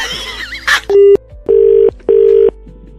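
Three loud, steady electronic tones in a row, evenly spaced, like a phone line's disconnect beeps after a call ends, with a brief voice before.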